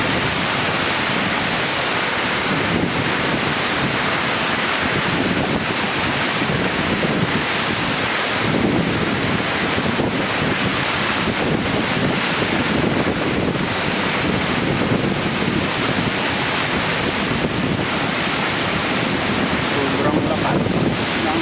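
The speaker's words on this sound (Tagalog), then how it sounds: "Hangin sa isla ng Boracay." Strong, steady storm wind from Typhoon Karina roars across the microphone on the coast of Boracay island, alongside crashing surf, a dense continuous rush with no pauses.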